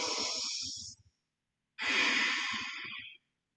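Two long, deep breaths taken while holding a yoga side lunge, each a loud, airy rush close to the listener, with a quiet gap between them.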